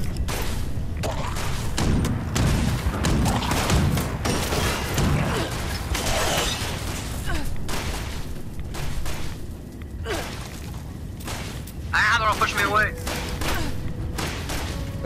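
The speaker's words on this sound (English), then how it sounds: "Wait, the robot's shooting at me?" Hostile robots open fire on the player in Fallout 76, with dense, loud bursts of game gunfire, thumps and mechanical clanks running continuously, mixed with voices.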